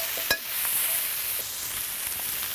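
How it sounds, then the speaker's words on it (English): Meat sizzles and browns in a hot wok, a steady frying hiss with faint crackles and one sharp pop near the start. "So now this meat is behaving like it should. It's browning and sizzling."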